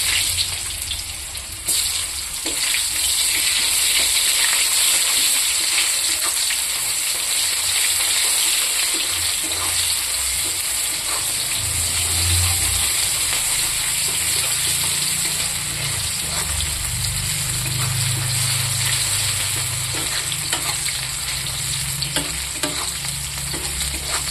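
Dried chili, nigella seeds and onion frying in hot oil for an eggplant and dry fish curry: a loud, steady sizzle with occasional stirring scrapes, continuous throughout with no talking.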